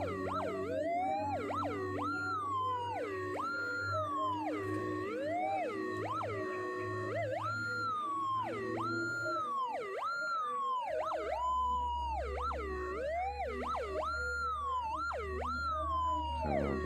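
A gold detector with a double-D coil sounds over a gold ring: a warbling electronic tone rises and falls in a steady repeating pattern, loud and continuous, with a low hum underneath.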